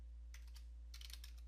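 Quick bursts of typing on a computer keyboard, a few keystrokes followed by a faster cluster of clicks, close and quiet over a steady low hum.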